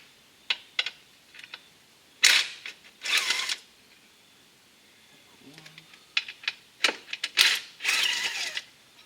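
A 10 mm wrench works loose the bolts on a Jeep Grand Cherokee 3.6 Pentastar thermostat housing, giving scattered sharp metallic clicks and ratcheting bursts that come and go, close by, with quiet gaps between them.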